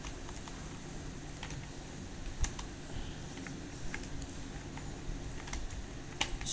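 Fingers type a name into an Excel spreadsheet on a computer keyboard, the keys clattering in an irregular patter of soft taps with a few sharper strikes, close and steady over a hissy background.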